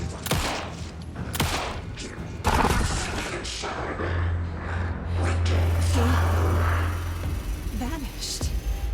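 Gunfire from the player's weapon in Alan Wake II, heard as several sharp shots spread through the stretch over a steady game backdrop with music and rumble, with speech present in the mix.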